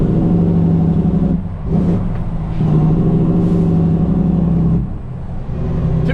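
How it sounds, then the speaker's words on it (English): A loud straight-piped 12.7-litre Detroit diesel truck engine rumbles and revs nearby, with deep steady droning broken by a few gear shifts. "To be fair, it's a loud truck,"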